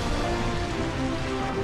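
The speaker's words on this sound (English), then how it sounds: "You used my own Rain Dance against me" Rain Dance move effect from the Pokémon Colosseum video game: a dense, steady synthetic rain wash, loud and continuous across the whole moment with no voices.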